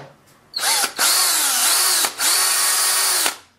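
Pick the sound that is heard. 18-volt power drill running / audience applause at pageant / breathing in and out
18-volt power drill running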